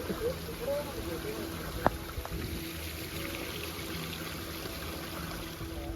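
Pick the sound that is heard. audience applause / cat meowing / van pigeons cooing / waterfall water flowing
waterfall water flowing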